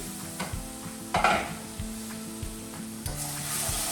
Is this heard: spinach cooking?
yes